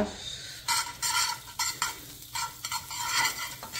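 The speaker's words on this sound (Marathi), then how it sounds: "तव्यामध्ये टाकायचं थोडंसं बटर" A sandwich crisps in butter on a flat tawa, with a low frying sizzle broken by several short, bright scraping bursts as it is moved around the hot pan.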